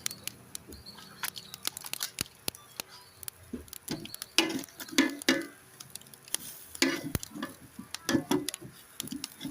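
Jerk chicken on a very hot grill over fire gives a faint, crackling sizzle dotted with rapid sharp ticks and pops, with louder bursts of spitting toward the middle and end.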